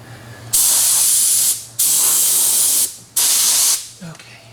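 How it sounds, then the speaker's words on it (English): A rattle can of gloss spray paint hisses in three long bursts, each about a second, against the chassis of a 1948 Chevy Fleetmaster, loud and close with short pauses between. "we just hit it with a rattle can of the same gloss type"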